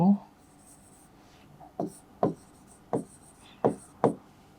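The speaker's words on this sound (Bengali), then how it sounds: "তাহলে আমরা এখানে লিখতে পারি একটু" Chalk or marker strokes on a classroom board during a Bengali trigonometry lesson for SSC students: about five short, distinct scraping taps spaced roughly half a second apart, close and moderately loud, with no talk over them.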